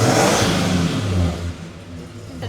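A Ford Fairmont ESP engine revs loud and close right after a push-button start, its roar strongest at first and then easing into a lower, rougher running note.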